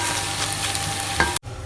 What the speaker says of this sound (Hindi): मिक्स कर लेंगे अच्छी तरह से और इसे उतार लेंगे हम।